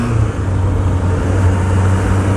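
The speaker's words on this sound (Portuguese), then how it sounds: "Este sonzinho desta moto é brutal." Steady, close engine drone of a Suzuki Bandit 600N motorcycle riding through the streets of Coimbra, a continuous low hum that stays even throughout with no talk over it.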